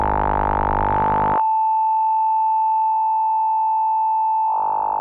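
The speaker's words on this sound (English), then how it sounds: "if I turn up the LFO all the way full, we've got a tone" Electronic synth tone from the SolderBox iOS modular app with the LFO turned fully up: a buzzy harmonic-rich note gives way to a pure steady sine-like hum, then the fuller buzzing tone returns.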